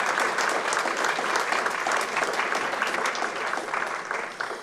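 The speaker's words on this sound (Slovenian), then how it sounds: "Lepo prosim za en aplavz" Steady, dense audience applause at a library opening honouring Dr. Vlasta Stavbar, a continuous wash of many hands clapping without pause, easing slightly at the end.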